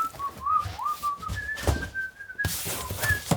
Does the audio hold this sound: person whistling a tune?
yes